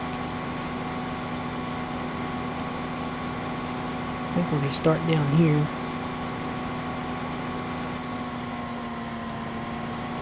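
A small tractor engine idles in the Farming Simulator 15 video game, a steady even hum with a droning tone, while someone speaks briefly midway.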